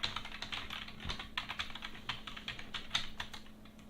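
Rapid clicking of a computer keyboard during play of the Space Quest 3 game, quick irregular keystrokes close by and fairly soft, with a low electrical hum underneath.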